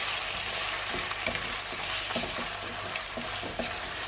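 Lamb mince with ginger garlic paste frying in a pan for a kheema biryani, a steady close sizzle with occasional soft scrapes and clicks as it is stirred.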